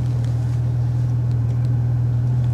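A Porsche 911 Turbo in Sport Plus mode pulls away, its engine a steady, deep, droning rumble heard close from inside the car, with no talk over it.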